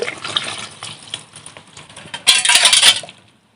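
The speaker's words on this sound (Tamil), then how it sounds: "இப்போதான் பால் விடுவேன்." Milk poured into fish curry cooking on a wood-fired stove, with light clinks and stirring at first, then a loud splashing gush of liquid that stops abruptly.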